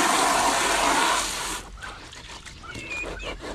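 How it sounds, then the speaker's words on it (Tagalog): Water gushes and splashes loudly for over a second, then stops, leaving animal noises and faint chirps in the background. "Lalagay muna tayo ng tubig."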